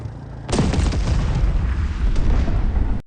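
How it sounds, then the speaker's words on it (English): A land mine blows up under the leading vehicle of a truck convoy crossing a minefield, one sudden loud boom that rolls on as a heavy rumbling roar for about two and a half seconds before cutting off. "a mine explosion destroyed the leading vehicle."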